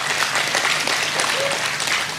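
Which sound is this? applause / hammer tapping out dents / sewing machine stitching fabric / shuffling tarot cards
applause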